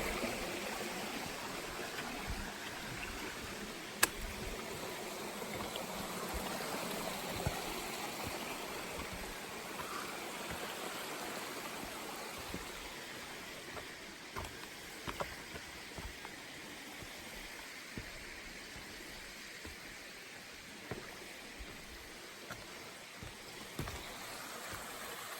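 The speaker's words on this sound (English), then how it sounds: "Still following, I think it's called Eliza Brook" Eliza Brook and its waterfall flow alongside a mountain trail near South Kinsman, giving a steady, soft rushing hiss of water that continues unbroken with a few faint clicks.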